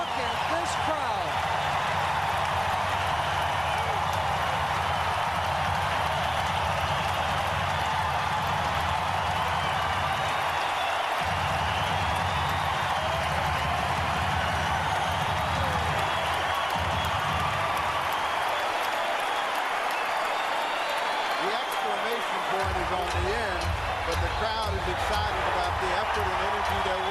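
Home crowd roaring in a basketball arena during a Spurs timeout in game 5 of the 1990 NBA Western Conference semifinals against the Trail Blazers; a loud, dense, continuous roar of cheering fills the whole stretch without letup.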